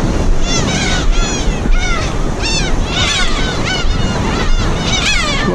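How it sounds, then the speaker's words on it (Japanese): Dense flocks of seabirds call constantly on a rocky island reached by boat, overlapping harsh honking cries near and far over wind and surf, with the clamor rising and falling throughout. "鳥がいっぱい。"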